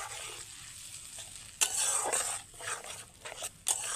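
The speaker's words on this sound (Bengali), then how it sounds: "এইবার হালকা আঁচে মশলাটা ভালোভাবে ভেজে নেব।" Spice paste frying in oil in a wok over low heat, stirred with a utensil: a steady soft sizzle broken by several louder scraping strokes against the pan, close and alone without talk.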